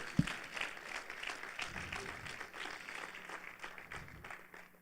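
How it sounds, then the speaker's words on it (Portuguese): A church congregation applauds during a sermon, the clapping faint and distant, a soft steady patter that holds for several seconds before gradually thinning out. "Você pode aplaudir o Senhor por essa palavra em nome de Jesus?"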